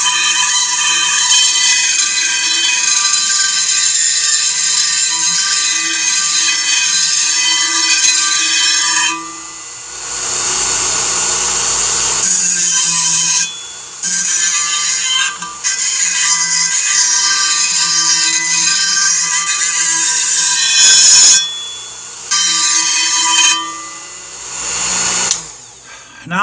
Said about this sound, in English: Now I gotta sand this too.